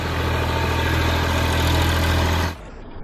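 A tractor engine runs in an open field, a loud, steady low drone close by that drops away abruptly near the end.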